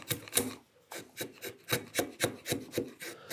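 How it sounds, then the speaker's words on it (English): A chisel pares wood with repeated jab cuts while shaping a stool part, about a dozen crisp rasping strokes in a quick, even rhythm, close and fairly quiet. "But I want to take the bulk of it off with the chisel"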